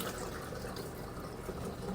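Rice being washed with water in a pot, a steady soft sloshing and trickling of water that runs continuously and fairly quietly, close by, with no voices.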